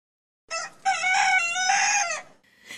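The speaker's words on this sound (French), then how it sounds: "Je ne suis pas sûre que les coqs chantent les matins d'hiver" A rooster crows once, loud and close, a long clear cock-a-doodle-doo rising and holding before it tails off, alone against silence in a children's Christmas story.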